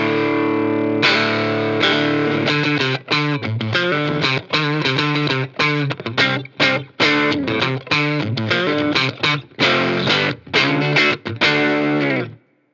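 Electric guitar played through a 5E3 Tweed Deluxe amp with the volume knob turned up, giving loud, thick overdriven chords and choppy rhythmic strums that ring continuously for about twelve seconds before cutting off.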